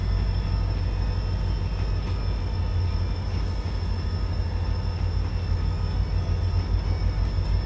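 A train pulls away from Wilmot Station with a steady low rumble and drone, moderately loud and continuous, with no voices present.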